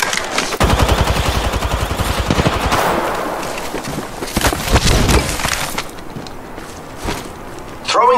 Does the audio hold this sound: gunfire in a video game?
yes